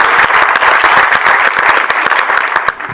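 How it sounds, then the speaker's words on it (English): An audience at a recognition-week event gives a loud, steady round of applause and clapping, dense and continuous for about three seconds before thinning slightly at the end. "Give her a round of applause one more time, Dr. Walker."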